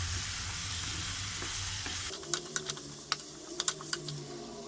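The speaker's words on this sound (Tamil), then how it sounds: "இதை நல்லா மிக்ஸ் பண்ணி விட்டுக்கலாம்" A sizzling frying pan of potatoes hisses steadily while a spoon stirs, with a run of sharp scraping clicks against the pan coming close together.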